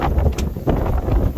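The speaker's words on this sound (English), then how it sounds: "Cold and windy." Gusty wind buffets the microphone in uneven, rumbling bursts, loud and close, with no one speaking.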